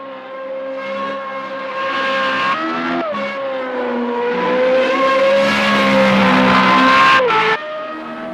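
Formula Renault 3.5 race car in Project CARS 2 screaming at high revs, with a brief downshift dip around three seconds, then climbing again before a sharp lift and gearchange near the end, loud and continuous.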